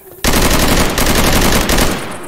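Rapid, loud SMG fire in Left 4 Dead 2 bursts in after a brief quiet moment and rattles on continuously for about two seconds before easing slightly at the end.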